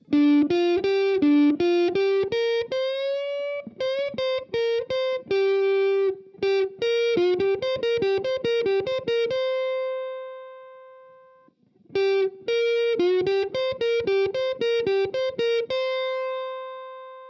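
Electric guitar plays melodic solo phrases alone, quick runs and bends with a brief pause and a sustained held note between passages.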